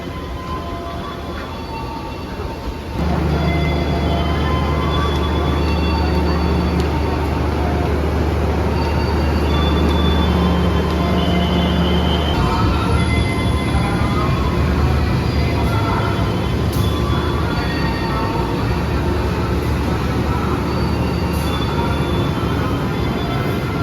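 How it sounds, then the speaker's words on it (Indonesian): A train waiting at railway platform 3 on a night run from Bandung to Jakarta, hauled by locomotive CC2019207, gives a steady loud rumble with a low engine hum and occasional metallic wheel squeals, continuous and close with no talking. "kereta kita tersedia di peron jalur 3 ya."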